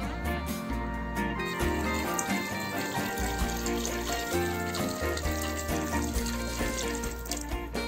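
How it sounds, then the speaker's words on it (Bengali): Water poured steadily into a multi cooker pot over butter and chillies while cooking spiced mutton bhuna, a continuous splashing wash set beneath loud, steady background music. "এখন এখানে পরিমাণ মতো পানি দিয়ে দিই।"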